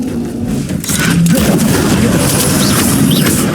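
Loud, dense booming blasts from the Bombarda explosion spell in Hogwarts Legacy roll into a sustained, rumbling roar that fills the whole moment.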